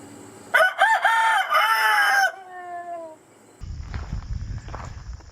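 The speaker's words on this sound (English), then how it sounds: "So we named the rooster Little Jerry." A rooster crows loudly and close by in a backyard flock, one long harmonic call that falls away at the end, followed by rustling steps and low clucking.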